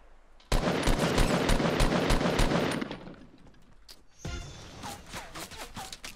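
Rapid bursts of automatic gunfire in the video game Fortnite, loud and close, firing steadily for about two seconds before fading, then a single sharp shot followed by scattered quieter game effects.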